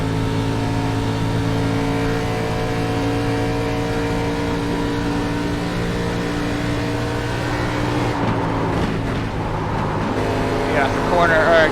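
Race car engine in iRacing, a steady high-revving drone with stacked harmonics that holds loud and continuous throughout, dipping briefly near the end as the throttle lifts; someone talks over it.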